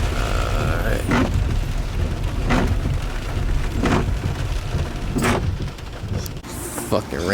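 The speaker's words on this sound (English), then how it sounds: "it's pouring out here" Heavy pouring rain drumming loudly and continuously, outdoors around a parked car, a dense wash of noise broken by a few sharp bursts and knocks.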